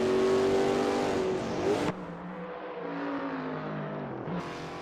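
Race car engine heard on board Blair Gabbities' Kmart car in Assetto Corsa, a loud steady high-revving drone that shifts abruptly to a lower, rougher note as the driver lifts and changes gear, then builds again.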